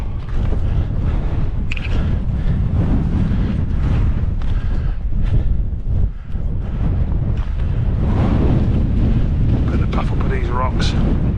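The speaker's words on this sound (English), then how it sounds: "Wind's picking up a bit." Wind gusting across an exposed rocky hilltop in the Peak District, a loud, continuous roar buffeting the microphone for the whole stretch, with brief dips and faint movement sounds underneath.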